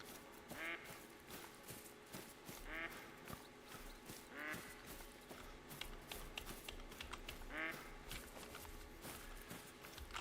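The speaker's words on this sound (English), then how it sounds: "Of course, ducks." Ducks quack in the video game theHunter, with four distinct quacking bursts spaced a couple of seconds apart over steady footsteps and faint ambient noise, all fairly quiet.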